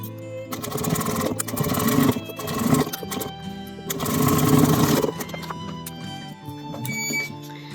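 Sewing machine top stitching a leather handbag's lining and zipper, running in two long bursts of steady mechanical whirring, then shorter stops and starts with faint clicks near the end.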